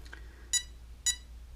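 A Castle Creations ESC beeps because its radio transmitter is switched off: three short, identical electronic beeps spaced about half a second apart, moderately loud over a low background hum.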